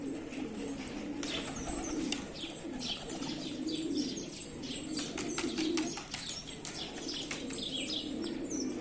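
Pigeons in a loft, including a black-tailed bird, coo in a low continuous murmur throughout, with scattered sharper chirps and rustling wing movement; no one speaks.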